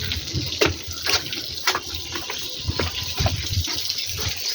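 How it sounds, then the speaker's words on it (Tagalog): Floodwater flowing through a street during rain, a steady close rushing and gushing wash with splashy surges, constant throughout with no talking. "Baha po dito sa amin."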